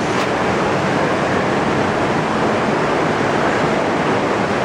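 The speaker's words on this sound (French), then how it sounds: "Il y a même de l'eau qui coule là." Water flowing steadily somewhere inside an old stone chamber, a constant dense rushing hiss that stays level and fairly loud throughout, with no voices.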